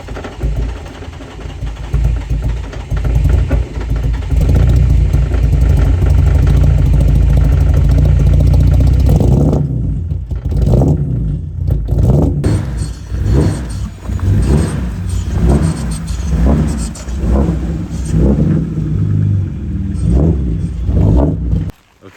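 A Mazda RX7 FB engine runs loudly and close, holding a steady drone before shifting to rhythmic revving pulses with clattering as the car is moved.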